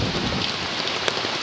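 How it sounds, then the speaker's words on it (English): Wind-driven rain from Hurricane Sandy roars as a dense, steady hiss of drops lashing surfaces, loud and unbroken throughout with no voices. "The rain is blowing."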